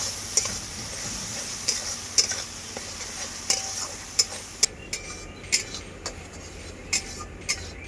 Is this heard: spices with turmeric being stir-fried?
yes